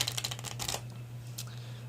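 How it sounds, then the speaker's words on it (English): Playing cards riffle shuffled in the hands, a quick burst of fluttering clicks for about a second that fades into quiet room noise with a steady low hum. "In the hands riffle shuffle."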